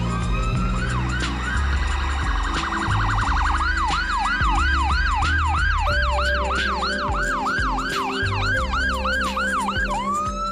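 A loud ambulance siren wails in rising and falling sweeps in Toronto traffic, joined by a second siren and engine rumble, continuous throughout.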